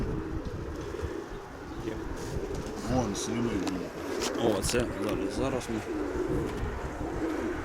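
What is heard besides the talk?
pigeons cooing, a male and a female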